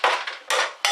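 A bowl being taken out among kitchen dishes, three quick close clattering knocks of crockery in about a second.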